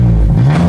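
A car with catless downpipes revs loudly up close, giving a deep, booming exhaust rumble whose pitch climbs slightly through the short burst.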